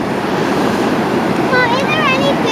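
Broad, steady ocean surf at the beach at Roads End in Lincoln City, washing loudly and continuously with wind rush and a brief faint voice toward the end.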